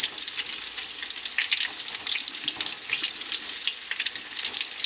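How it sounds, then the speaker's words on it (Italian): Artichokes frying in hot oil in a pan give a steady, dense crackling sizzle with rapid pops throughout, close and continuous with no talking. "Questi sono quasi fatti, sono appena 2 minuti che friggono."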